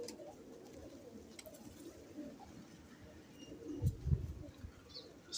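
Soft, low coos from a teddy pigeon rumble faintly against a quiet background hiss, a couple of throaty calls near the end.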